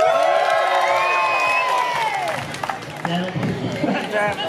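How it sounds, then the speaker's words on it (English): A street festival crowd in Essen cheers and whoops loudly for a street performer, with high shouts rising over the crowd noise before settling into scattered voices and lighter clapping. "It's up to the audience to decide by round of applause which one."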